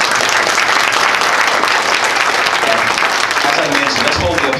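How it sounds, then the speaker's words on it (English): Dense, sustained audience applause fills the room at a US Senate candidate debate held by a conservative group, a steady wash of many hands clapping at full volume throughout. "let's hold the applause until after the event, just for time's sake"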